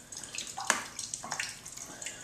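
A portable hand-pump water filter is worked in a series of rhythmic strokes, each pushing out a short splash of water, heard close up without speech.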